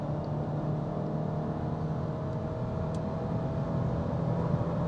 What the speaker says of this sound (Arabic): زي ما شفتوا العربية سرعت بالظبط زي ما انا تنبأت يا جماعة